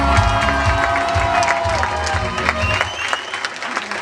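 Audience applause at an evening show, a dense crowd clapping steadily and loudly, with some cheering mixed in.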